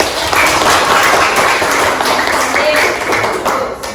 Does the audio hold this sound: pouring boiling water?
no